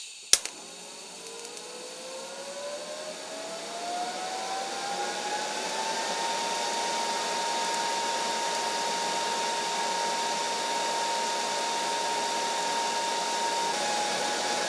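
A new welder strikes a smooth, stable arc in a garage rollcage build: a sharp snap at ignition, then a steady rising whir that settles into a constant sustained hum, loud and close with no talk.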